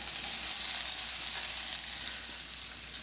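Crushed ginger, garlic and three green chillies sauté in hot oil, giving a loud, steady sizzle and crackle that fades slightly at the end.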